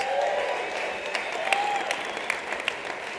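A crowd at a winter speaker event hosted by a Tahoe City ski shop applauds the sponsors with soft, steady clapping, a few sharper individual claps popping out over the general patter.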